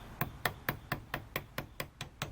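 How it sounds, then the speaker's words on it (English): A hammer taps down a battery terminal post on a 1997 Honda Civic LX, ten sharp, evenly spaced metallic knocks in quick steady rhythm, close and fairly quiet. "tap it down more, just like that"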